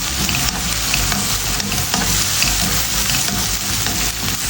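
Ginger and curry leaves fry in a pan for chilli fish fry, a dense steady sizzle broken by scraping stirs of a spoon, close and continuous with no one talking.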